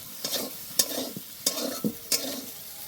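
Soybean chunks fry in oil under repeated stirring, four or five scraping sweeps of a spoon over a soft constant sizzle, fairly quiet and without talk.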